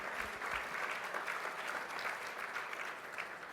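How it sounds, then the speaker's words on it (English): An audience at a New York business association event gives steady applause for Deputy Mayor Howard Wolfson, a dense, continuous patter of many hands clapping in a hall, sustained at even strength throughout. "You can give him a round of applause."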